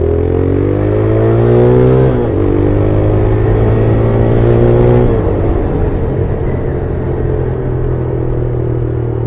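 Modified motorcycle engine revving during a sound check, a loud steady drone that climbs in pitch twice and drops back, then settles to an even idle rumble.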